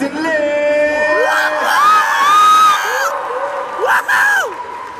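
Convention panel crowd screaming and cheering for two actors, high shrill yells and whoops rising and falling over a roaring audience, loud and close, with a second burst of screams near the end.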